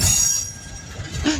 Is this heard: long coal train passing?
yes